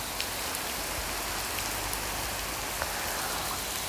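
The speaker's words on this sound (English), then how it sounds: "It's just pouring rain around me." Heavy rain pours steadily all around, a dense continuous hiss with scattered louder drops, with no one talking.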